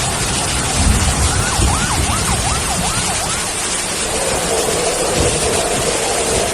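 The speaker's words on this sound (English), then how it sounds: "Sirens echoed across Chengdu as authorities scrambled to drain the water" Emergency sirens wail across flooded Chengdu, a wavering tone rising and falling for a couple of seconds over dense, roaring background noise.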